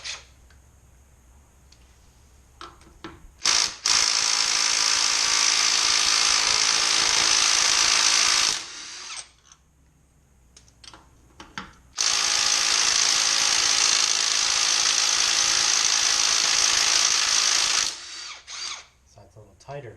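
Pneumatic impact wrench working a wheel hub on a trailer, two long loud sustained bursts of whirring hammering separated by a quiet pause, with faint shop noise between.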